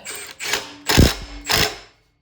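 Three short mechanical ratcheting bursts from a wrench as a bolt is tightened back onto a Craftsman snow blower, close and fairly loud, each about a third of a second long, with brief pauses between them.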